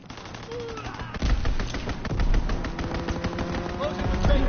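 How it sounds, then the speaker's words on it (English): An enemy strafing run in Call of Duty WW2, with sustained loud machine-gun fire and booming impacts rolling through the match under game voice lines and chatter. "Enemy strafing run, inbound."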